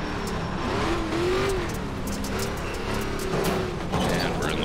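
An ARCA race car on a dirt track in the iRacing game spins its tires, giving a loud, steady engine drone whose pitch rises and falls with the throttle.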